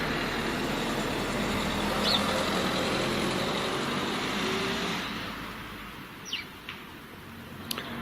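A 600cc turbocharged 2013 Daihatsu Copen engine runs at a steady hum with a broad, fairly loud roar that drops away toward the end, leaving faint ambient sound and a few brief chirps.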